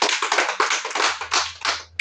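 A small group gives lively applause for the Santo Niño, a burst of close, uneven hand claps with a faint low hum beneath.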